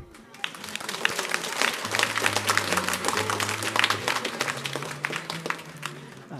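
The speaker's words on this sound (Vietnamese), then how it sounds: "xin cho con được một tràng pháo tay nữa để đón chào anh đoàn trưởng Vũ Quốc Thái." A church congregation claps during a Sunday Mass, irregular individual claps building into moderately loud applause, with a sustained low organ-like tone underneath that steps between notes.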